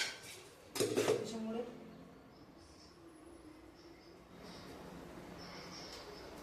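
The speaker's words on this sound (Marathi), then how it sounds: "शेंगदाणे भाजून घेते." Peanuts being roasted in a metal pan in a home kitchen, with a loud rattling scrape and clatter near the start that gives way to quieter, faint stirring sounds over a steady background.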